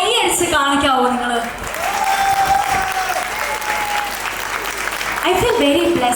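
Audience at a wedding reception clapping after a dance performance, a loud sustained burst of applause filling the room, with a voice speaking briefly at the start and end.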